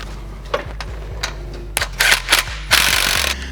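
A socket ratchet tightens exhaust bolts on a GR Corolla, with quick clicking strokes that come in bursts of varying length, close and loud.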